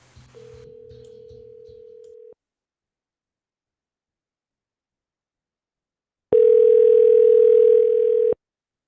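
Telephone dial tone: a steady single-pitch tone runs for about two seconds over faint background noise, then after a silence a louder, brighter tone plays for another two seconds before cutting off.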